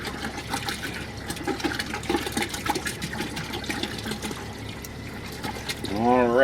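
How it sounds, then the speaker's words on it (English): Half a gallon of apple juice pours steadily into a pot for apple pie moonshine, a continuous close splashing trickle with faint voice-like murmur near the end. "you're going to need a half gallon or 64 ounces of apple juice. And you're going to pour that right in the pot."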